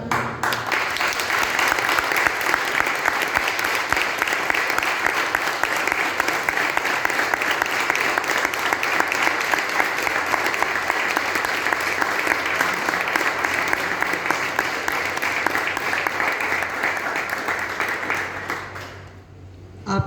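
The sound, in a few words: audience applause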